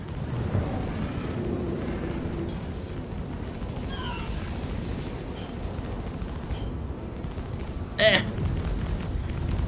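A missile launches during a space dogfight in Star Citizen, with a continuous heavy rumble of engines and blasts and a sharp burst late on; voices talk over it.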